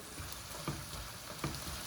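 Sausage fries and browns in a pan with a steady close sizzle, and two soft knocks from pressing it down or stirring; no voices.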